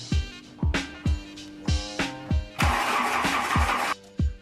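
An abandoned VW Mk2 Golf, unused for 20 years, cranks over in a steady series of loud, rhythmic starter pulses, then briefly bursts into a rough, noisy sputter before dropping back to a couple more cranks.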